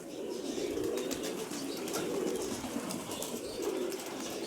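Mykolaiv breed pigeons cooing in a steady low murmur, with occasional soft wing flaps, fairly close and continuous.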